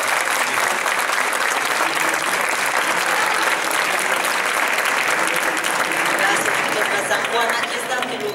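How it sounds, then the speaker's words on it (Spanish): A crowd at a book fair in Los Angeles gives an author a strong welcoming round of applause, continuous and loud for several seconds, with faint voices mixed in. "Yo les invito a bienvenir a Lidia con un fuerte aplauso."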